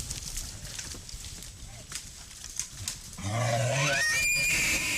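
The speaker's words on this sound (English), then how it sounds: "It is a bull elk screeching. Oh, an elk. Wow. They call it bugling." A bull elk bugles from a distance: a rising, whistling squeal with harsh grunting undertones, after a stretch of breezy background noise.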